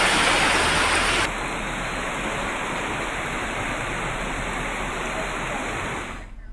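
Heavy rain pours down steadily during severe monsoon flooding in India, a dense, continuous rushing wash that briefly surges louder before settling into a constant roar, with a thin high hiss running through it.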